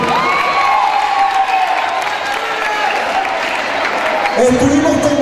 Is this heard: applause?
yes